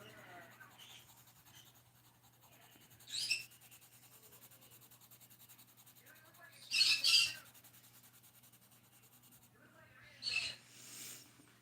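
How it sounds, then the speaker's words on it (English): Pet birds squawk indoors in three loud, harsh bursts spaced several seconds apart over a quiet room with a faint voice in the background. "you can hear my birds complaining in the background"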